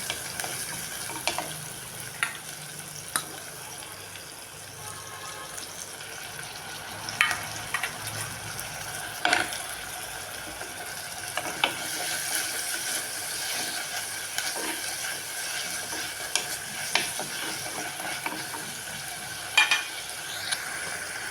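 Drumstick leaves with green chili and prawns sautéing in a pan give a quiet, continuous frying sizzle with occasional scrapes and taps of a stirring spoon, close by and without talk.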